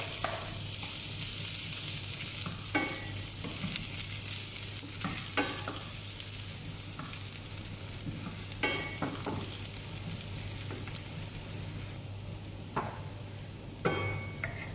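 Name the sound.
garlic frying and sizzling in a hot pan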